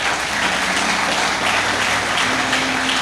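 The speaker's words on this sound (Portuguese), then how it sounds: "Você pode aplaudir o Senhor bem forte?" A church congregation claps loudly and continuously in worship, dense applause filling the whole stretch, with a faint sustained tone underneath.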